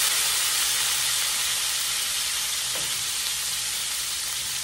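Vegetables with Worcestershire sauce sauté in a pan for a creamy beef and mushrooms dish, giving a steady, loud, continuous sizzle and hiss with no talking.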